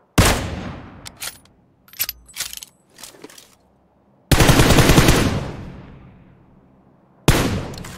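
Loud gunfire in a shooter video game: sharp bursts and a few quick clicks, then two sustained, roaring volleys that ring out and fade, with no talking.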